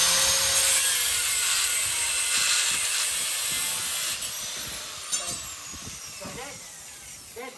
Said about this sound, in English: that there is a metal cutoff wheel that's very, very thin. And as long as you don't use it for grinding, it's excellent for cutting